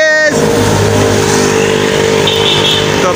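A vehicle engine humming steadily at close range as it pulls away, a low droning tone held throughout, with a brief horn-like tonal burst at the start and faint voices in the background.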